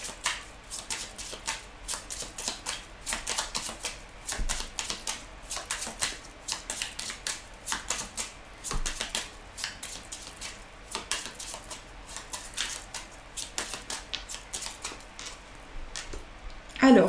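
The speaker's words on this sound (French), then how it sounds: "je vais reprendre toutes les cartes et on va faire un tirage avec le jeu de 32" A 32-card deck is gathered and shuffled by hand, producing a fast, steady patter of soft card flicks and slaps close up for the whole stretch.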